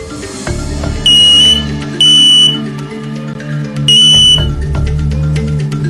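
A smoke alarm gives three loud, piercing electronic beeps at uneven gaps, standing out sharply over a low, steady background bed of tones, with no one speaking.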